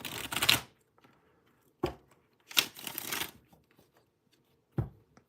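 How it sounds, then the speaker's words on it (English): Tarot cards are shuffled in several brisk bursts separated by short pauses, close and crisp, with no talking. "Let me do an extra shuffle here."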